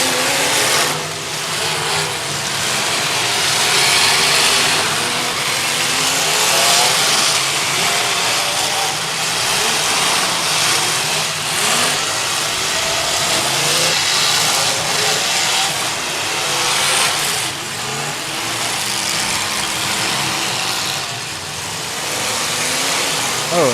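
A Mopar station wagon's engine roars and revs steadily through a demolition derby arena, loud and continuous with crowd and announcer voices mixed in over it.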